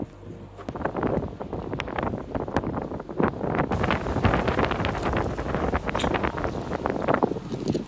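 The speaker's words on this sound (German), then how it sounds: "Und jetzt stehen wir da ziemlich im Wind herum." Strong mountain wind buffets the microphone in rumbling gusts, steady and close, with no other clear sounds.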